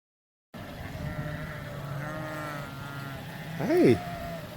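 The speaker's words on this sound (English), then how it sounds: "He was just moving the sheep from one mountain to another" A single sheep bleats once near the end, rising above a steady outdoor rumble with faint engine-like hum throughout, in the San Juan Mountains of Colorado.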